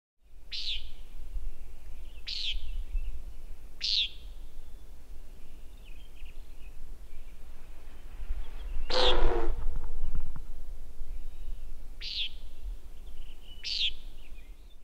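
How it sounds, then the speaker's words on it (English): A single brief whooshing boom from a common nighthawk's diving display lands in the middle, set among repeated short nasal nighthawk calls that sound every second or two over a soft outdoor background. "The sound created from the dive is referred to as the booming display."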